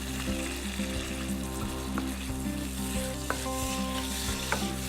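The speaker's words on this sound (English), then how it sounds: "I'm frying the pesto in the pan and getting a bit of heat into there." Steady sizzling of pesto frying in a hot pan, with soft scrapes and taps of a spoon stirring now and then under a low background hum.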